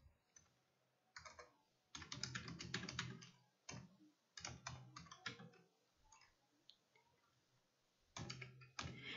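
Fingers type on a computer keyboard in quick clattering bursts separated by short pauses, close and clear with no talking.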